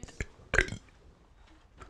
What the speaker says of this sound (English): Can you burp your ABC?